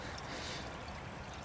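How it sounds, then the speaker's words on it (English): Water pouring into a bottle of compacted clay soil, a soft continuous trickling gush heard close and alone for the whole short stretch. "Now, I'm going to fill it up with water"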